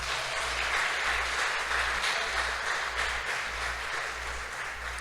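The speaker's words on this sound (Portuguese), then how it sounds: "Dê um forte aplauso ao Senhor." Church congregation applauding the Lord after the pastor's call, steady dense clapping from a large crowd filling the room, sustained and even with a low hum underneath.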